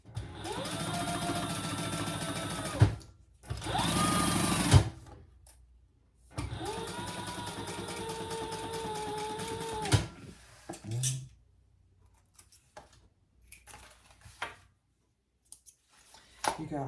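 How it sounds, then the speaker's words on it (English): A sewing machine stitches a leather seam on a waist pack in long, steady close runs of rapid mechanical whirring, separated by short pauses and a few clicks, then goes quiet. "Now I'm going to sew that at the full seam allowance."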